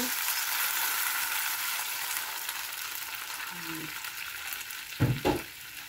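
Broth pours into a pan of frying talakitok fish, a broad steady hiss of sizzling that eases slightly, then a couple of loud bumps and scrapes near the end.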